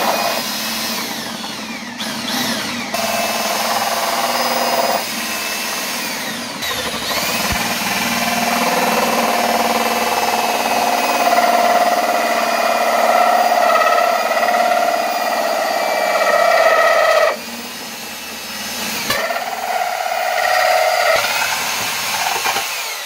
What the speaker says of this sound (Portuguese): tem um pouco de cuidado a mais quando for furar em cima, que ele é bem mais grosso que dos laterais